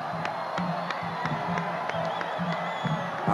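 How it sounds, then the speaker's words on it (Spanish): A stadium crowd cheers and applauds after a long-range football goal scored from midfield, a loud, sustained roar with rhythmic chanting and clapping pulses. "Aplausos, ¿eh?"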